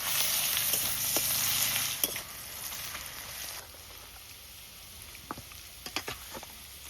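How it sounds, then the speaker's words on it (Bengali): Chopped onions frying in a pan, a loud hissing sizzle that drops to a quieter crackle midway, with scattered spatula clicks near the end. "তোমার এই পেঁয়াজ কিন্তু ভাজা হয়ে গেছে।"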